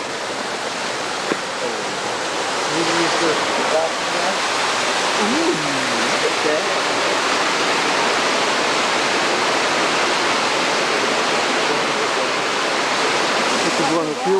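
A waterfall in a mission garden roars in a steady, loud, unbroken wash of rushing water, with faint voices briefly audible early on beneath the spray.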